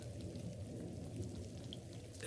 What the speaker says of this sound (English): it sounds like it's raining because it snowed up here last night